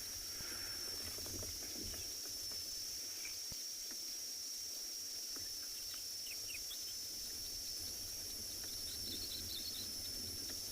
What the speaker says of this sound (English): Can hear Kalahari scrub robin.